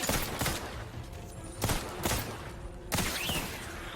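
Gunfire in the video game Outer Worlds 2 comes as several sharp shots and short bursts spaced across a few seconds, loud and punchy, with game sounds filling the gaps between them.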